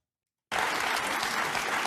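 A studio audience bursts into applause after a brief silence, a sudden, dense, sustained roar of clapping that stays even and full to the end.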